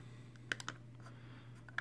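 Sonoff light switch v2 button giving a few light, sharp clicks like a mouse click, two close together near the middle and one more at the end, faint over a steady low hum.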